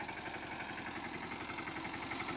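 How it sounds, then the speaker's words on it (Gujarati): A tractor engine chugs steadily while cutting furrows in a farm field, a continuous loud rhythmic thrum with heavy low-end vibration and no voices. "હવે આ ટેક્ટર લઈને જો ધોરીઓ નાખે છે"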